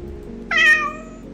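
A cartoonish cat meows once in the video game Calico, a short clear call rising and falling over a quiet hum of game music.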